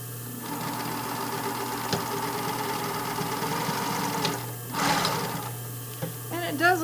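A sewing machine stitches fabric for a sewing-pattern project, a close, steady mechanical whir with a rapid needle rhythm, while someone talks over it near the end.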